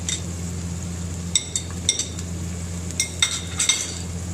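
Chopped tomatoes tipped into a biryani pan, bringing light metallic clinks and taps of a utensil over a steady low frying hum, with no talking.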